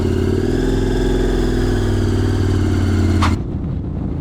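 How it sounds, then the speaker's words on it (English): A 2024 KTM Super Adventure S motorcycle engine idling after warm-up outside a shed, a loud, steady close rumble that cuts off sharply near the end. "I just took the motorcycle out of the shed and warmed it up a bit"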